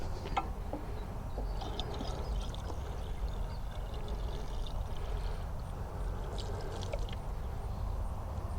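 Water is poured steadily into a Honda WD20X water pump to prime it, a continuous close trickling and splashing stream with faint tapping, no voices.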